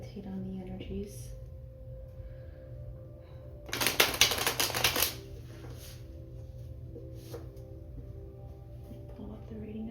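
A single short burst of tarot cards being shuffled, close and crisp, lasting about a second amid quiet background hum.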